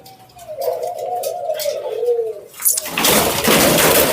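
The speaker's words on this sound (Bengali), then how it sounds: "এই যে এখানে আছে এক জোড়া লাল চুইটাল, এখানে আছে সাদা চুইটাল এবং রিংনেক নর।" Ringneck and Chuitaal doves in a backyard dove farm give a low, drawn-out coo up close, followed by a sudden burst of louder, broadband noise as birds stir near the microphone.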